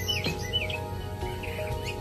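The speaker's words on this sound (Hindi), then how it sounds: "चिड़ियाओं चहचहाई" Several small birds chirping in the morning, quick high tweets and trills repeating over a low steady hum, close and fairly loud.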